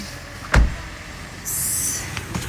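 Someone climbs into a car on a cold day: a sharp door thud, a few seconds of quiet cabin, then a steady mechanical whir, with a second softer knock at the end; no talking.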